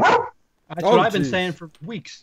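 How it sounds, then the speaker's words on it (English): A dog gives one short, loud bark at the very start, followed by a pause and then people talking close by. "Sorry, that was my dog."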